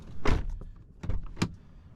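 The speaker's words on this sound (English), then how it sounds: "So let's shut the door real quick." A 2012–2017 Toyota Camry door is pushed shut after a mirror replacement, giving a few close thumps and latch clunks in quick succession with no talk.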